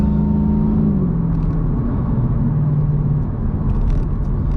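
Ford Falcon FG ute driving, heard from inside as a steady loud engine drone with low rumble and shifting tones as the revs change, continuous throughout with no talk.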